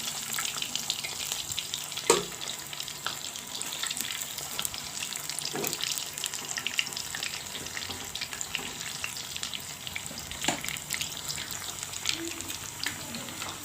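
Fish sizzles steadily in a frying pan, a continuous crackling spatter up close with a few sharper pops and clinks, no voices over it.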